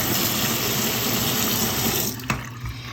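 Running tap water splashes steadily over a fountain pen's nib unit during rinsing, a close, continuous gush that cuts off near the end, followed by a brief clunk and a quieter trickle.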